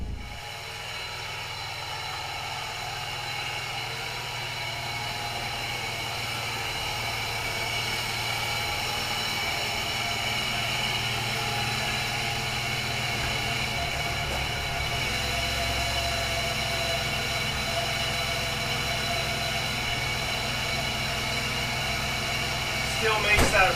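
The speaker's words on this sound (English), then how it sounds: "So the horrible whirring noise you hear under the hood is obviously a bearing dead somewhere." A 1997 Camaro with a dead bearing under the hood makes a continuous whirring drone, a steady, unbroken mechanical hum with a hissing edge that holds for over twenty seconds.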